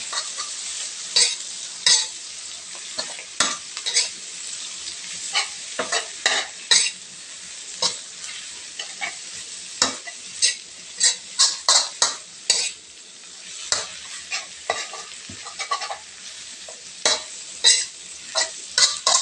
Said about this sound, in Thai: แล้วก็ผัดให้เข้ากันได้เลย